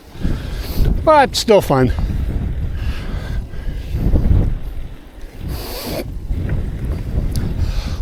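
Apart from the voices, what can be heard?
strong wind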